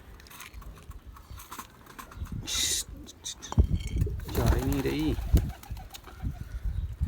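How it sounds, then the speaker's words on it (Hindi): Fancy pigeons kept in hot weather coo in low, rolling phrases near the microphone, with a person talking over and around them. "तो ये सारे कबूतर मेरे फैंसी हैं"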